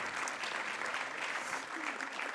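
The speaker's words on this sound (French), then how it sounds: "Oui, on peut les applaudir." Steady, dense clapping from an audience at a French city innovation project presentation, a continuous wash of many hands without pause.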